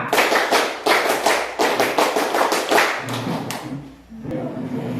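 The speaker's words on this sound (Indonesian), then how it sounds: "kita tepuk pramuka dulu" A group of high school students in a classroom clap the scout clap together, a run of sharp, loud, rhythmic hand-clap bursts close by that stops partway through, leaving quieter room sounds.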